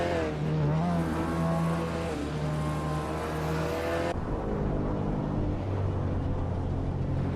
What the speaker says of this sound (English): Gravy Graves is driving a 2016 Mazda MX-5 Cup